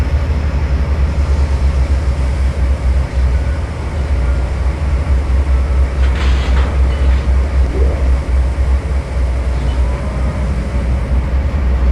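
A locomotive runs at top speed along the rails, making a loud, steady rumble and roar that holds for the whole stretch with no voices.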